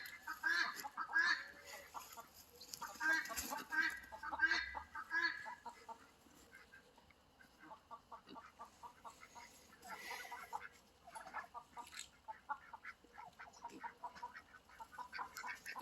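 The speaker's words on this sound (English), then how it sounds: "Black Turkey is actually wanting to get to the top roost. So she's making a little bit of trouble for Shuri." Turkeys at their roost on a farm, clucking, chirping and calling repeatedly in irregular bursts, fairly close and moderately loud with overlapping calls.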